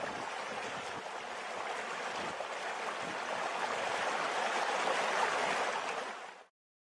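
A waterfall outside Enköping gives a steady, loud rushing roar that holds evenly throughout and then cuts off abruptly.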